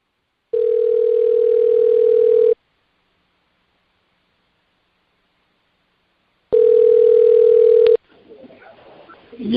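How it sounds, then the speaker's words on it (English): A telephone ringback tone on a call sounds twice as long, steady buzzing tones separated by a few seconds of silence, loud and clean. A voice starts talking right after the second ring. "Forgive the ringing."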